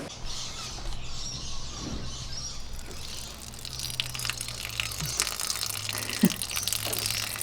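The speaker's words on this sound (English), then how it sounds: "You can hear it filling the back tank now." Water runs steadily into a camper van's fresh water tank, a constant gushing hiss that continues throughout with faint bird chirps in the background.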